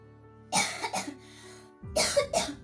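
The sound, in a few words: coughing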